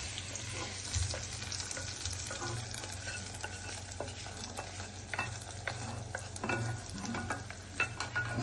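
Garlic frying on its own in a pan for pongal: a steady, dense sizzle with crackle throughout, and scattered louder pops and scrapes of stirring, close and with no talk.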